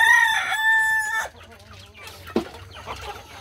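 Broiler chickens in a backyard coop cluck and squawk close by, with one sharp crow-like call at the start followed by softer scattered clucks.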